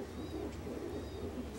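Pigeons in a loft coo softly, a low, faint murmur that continues through the moment with no talking.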